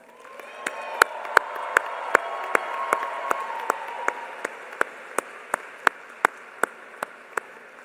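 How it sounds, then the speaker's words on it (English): A graduation audience for the class of 2026 claps steadily, a dense wash of applause with sharp individual claps standing out near the front, continuing at an even level throughout. "join me in celebrating the class of 2026 with a hearty round of applause"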